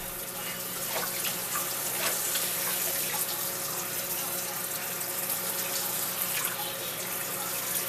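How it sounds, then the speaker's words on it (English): Cold tap water pours steadily from a kitchen faucet into a sink over blanched potatoes, a continuous close hiss and splash that holds at an even level throughout. "I will run cold water over the top."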